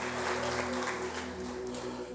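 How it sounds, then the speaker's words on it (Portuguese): A church congregation claps in praise during a sermon, soft and fairly distant, with sustained music or organ tones running underneath. "dê uma salva de palmas ao Senhor"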